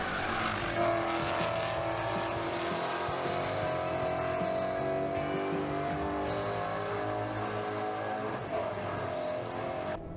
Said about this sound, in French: Nous sommes passés sur les Mustang Challenge, je vous laisse profiter du son de leur V8